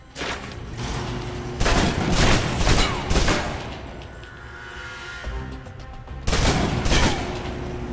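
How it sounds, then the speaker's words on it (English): Submachine guns in a 007 video game fire in several loud, close bursts of rapid shots, separated by short pauses filled with quieter game ambience. "Now for your submachine guns."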